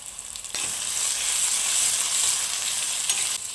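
Liver frying in a pan with chilli powder and coriander powder gives a loud, dense, continuous sizzle that starts abruptly and holds steady, heard close and alone without speech.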